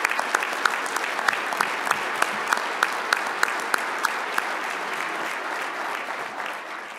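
An audience at a union legislative-political conference breaks into steady, full applause with a few sharp, evenly spaced claps standing out early on, then gradually softens.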